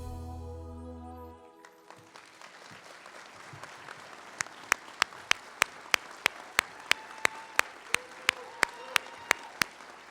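Award ceremony audience applauding, a dense steady wash of clapping that builds and fills the room, with a few sharp percussive hits cutting through in a regular rhythm toward the end.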